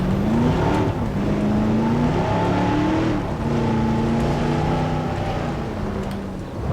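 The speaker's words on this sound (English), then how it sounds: "just drive the car wherever we feel like" V8 Jeep engine in Jurassic World Evolution, a steady close drone that rises and falls as it shifts through gears while driving around the park, loud and alone.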